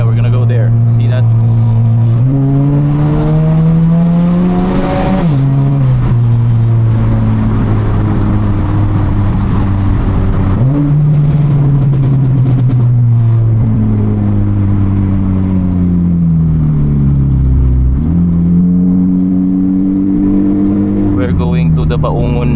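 Honda Civic FD1 eighth-generation with R18 engine heard from inside while driving, a loud steady engine drone rising through several gear pulls and dropping at each shift, no talk during the stretch.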